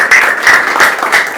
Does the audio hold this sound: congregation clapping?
yes